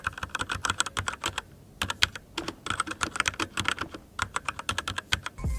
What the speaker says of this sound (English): Speaking of typing, the Kitava uses linear switches.